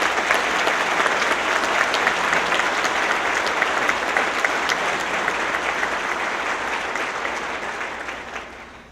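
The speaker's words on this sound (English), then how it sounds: "So give all of our young people a round of applause." Audience at a lecture series clapping in a dense, steady round of applause that holds strong before gradually tapering off at the end.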